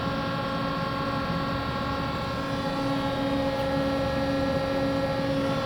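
A 6-foot, 60-ton Accurpress hydraulic press brake runs at idle, giving a steady, even drone of motor and hydraulic pump hum with stable tones and no pauses, heard close and alone.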